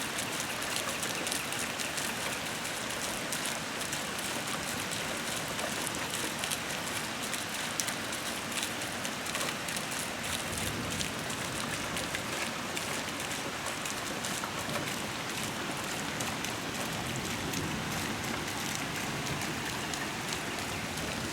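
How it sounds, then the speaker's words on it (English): Heavy rain pours down steadily in a New England garden, a dense continuous hiss of drops hitting surfaces with no break or letup, close and enveloping. "much needed rain here in New England."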